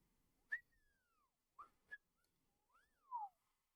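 A pet bird gives several quiet whistles, a few rising and falling sliding notes with short chirps between them, in an otherwise quiet room.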